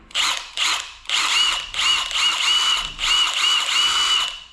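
Cordless Milwaukee M18 2962-20 impact wrench running in four loud, close bursts: two short ones, then two longer buzzing, rattling runs of a second and a half or more, with no talk.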